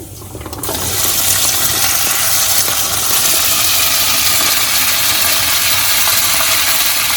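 Okra pieces frying in a pan for a Tamil-style bhindi fry, a loud steady sizzle and hiss that swells in within the first second and holds evenly to the end with no voices.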